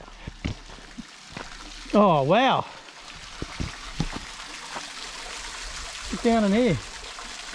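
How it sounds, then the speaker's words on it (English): A small creek flows steadily at a cave, its soft, continuous trickle running beneath a person's brief excited exclamations. "Oh, lovely little creek too."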